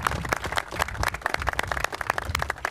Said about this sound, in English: Can we just give her a round of applause for her work?